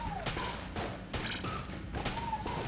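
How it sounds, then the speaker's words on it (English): Rapid bursts of Vulcan cannon fire from the video game Enter the Gungeon come in several quick volleys across a few seconds, close and punchy. "He just uses a Vulcan cannon."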